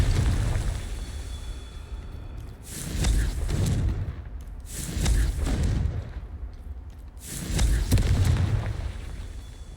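Fiery blasting spell from Hogwarts Legacy erupting three times in a steady rhythm, each a loud booming explosion with crackling debris tails, set over low rumbling ambience.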